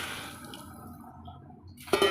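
Hot water poured into a pot of vegetable biryani on the stove, a soft steady liquid wash with faint dish clinks, ending in a brief louder splash and rattle near the end.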